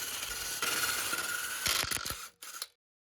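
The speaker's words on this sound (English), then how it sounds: "Start by jacking up the driver's side front and remove the wheel." A ratchet clicks rapidly while removing the front wheel from a Tahoe, with short bursts of metallic clicking and a few sharper knocks, close up, ending in brief clicks before silence.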